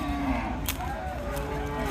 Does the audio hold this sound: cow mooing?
yes